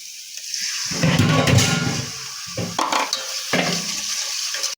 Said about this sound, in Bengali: বন্ধুরা পেঁয়াজ মরিচ দিয়ে দিলাম তেল দিয়ে দিলাম এখন এটা আমি গরম করে একটু ফ্রাই করে নিই